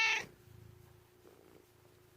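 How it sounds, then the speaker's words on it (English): A pet cat named Rose purrs softly while being stroked, a low rhythmic rumble that begins right after a brief sharp meow-like sound at the start, close by and faint. "you can hear her purring probably"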